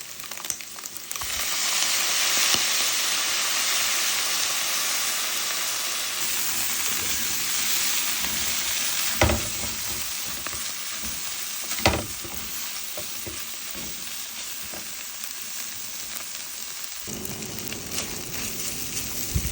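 Mixed seafood including mussels and octopus stir-frying in a hot pan after soy sauce is added, a steady loud sizzle with scraping stirring strokes and occasional sharper clanks, close up with no talk.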